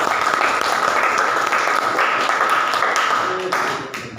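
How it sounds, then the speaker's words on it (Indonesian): A classroom of students claps for a student named Ilham, steady dense applause close by that gradually thins and fades near the end. "Ya, kita berikan aplaus dulu untuk Ilham."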